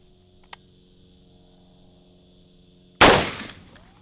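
A single loud rifle shot fired while aiming through an ACOG sight at a range target, a sharp close blast with a brief decaying tail, preceded by a faint click and steady background hum.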